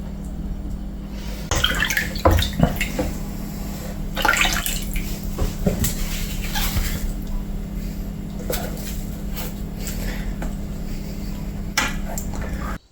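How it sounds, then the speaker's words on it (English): Water poured and emptied out of a container after soaking a leather knife sheath, a close sloshing, splashing pour running for several seconds with dripping and a steady low hum underneath. "With that done, empty the water out"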